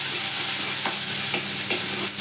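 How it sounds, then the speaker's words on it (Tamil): Onion, green chili and curry leaves fry in hot oil for a South Indian beetroot poriyal, giving a steady close sizzle with a few soft stirring scrapes and no talk. "சின்னதாக ஒரு பெரியதாக ஒரு வெங்காயம், ஒரு பச்சை மிளகாய், கருவேப்பிலை போட்டு தாளிச்சிடணும்."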